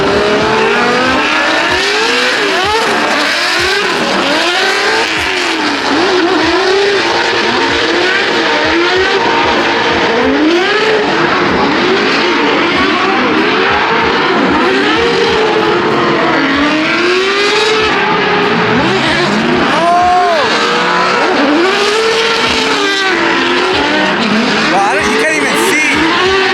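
Two drift cars, a BMW M3 swapped with an LS V8 and a rotary-engined car, slide in tandem with tires squealing continuously over loud, steady engine revs; excited voices talk over the action throughout.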